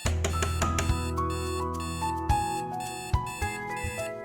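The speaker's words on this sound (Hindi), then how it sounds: "अलार्म बज रहा है।" An alarm clock rings with a steady, loud electronic tone that runs through the whole stretch, marked by a few sharp knocks and bumps. No one speaks.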